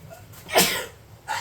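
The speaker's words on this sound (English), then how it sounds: "A little bit of sneeze action there, no problem." One short, sharp sneeze bursts out close by and loud, with a softer breathy follow-up a moment later.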